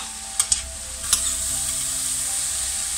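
Vegetables frying over high heat in a pan while stirred: a steady hissing sizzle with a few sharp utensil scrapes and clicks near the start, close and continuous.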